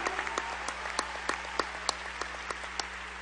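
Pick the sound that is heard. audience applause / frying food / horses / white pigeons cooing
audience applause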